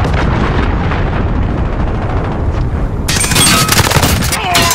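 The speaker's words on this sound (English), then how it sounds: "Enemy cruise missile incoming." Cruise missile strike in a video game shooter: dense, roaring explosive rumble and crackling gunfire fill the whole stretch, swelling into a brighter blast of debris and shots near the end.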